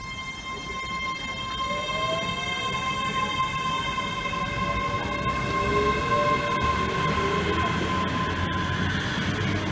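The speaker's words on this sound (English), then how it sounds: "This is our train, or one of them, we need to get two trains." A Hitachi class 385 AT200 train runs past at a station with a steady rolling roar and long, sustained high-pitched whine and squeal, loud and close throughout.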